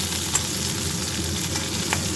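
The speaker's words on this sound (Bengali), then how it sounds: "কালো জিরে ফোড়ন দিয়ে ভেন্ডিটা দিয়ে দিয়েছিলাম। ভেন্ডিটা বেশ ভাজা ভাজা হয়ে গেছে" Okra fries in a wok with nigella seeds, giving a steady, close, crackling sizzle with no voices.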